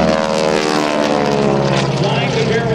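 A North American T-6 Texan propeller aircraft flying air show aerobatics gives a loud continuous radial-engine drone with a rough propeller growl, as a voice speaks over it.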